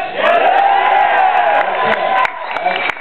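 A theater audience cheers, yells and whoops together in a loud, steady roar that fills the hall, with a few sharp shouts and claps rising above it.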